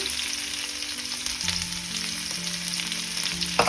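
Onion and cumin seeds hiss and sizzle in oil left from shallow frying paneer in a pan, a steady close crackle with a faint steady tone underneath and a brief clatter at the end.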